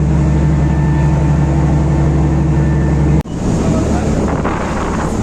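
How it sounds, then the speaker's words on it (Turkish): Steady low engine drone of a ferry under way from Bostancı past Heybeliada, Istanbul, with wind rushing over the microphone and a brief dropout partway through. "Tekne gidiyor."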